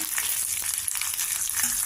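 Slit green chillies hit hot tempering oil and crackle in a dense, steady sizzle up close, with a brief stirring clink and no talking.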